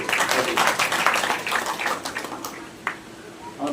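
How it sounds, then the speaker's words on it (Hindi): Audience applause during a religious discourse, a burst of many hands clapping that thins out after a couple of seconds, with a little speech. "ताली बजाए, धन्यवाद।"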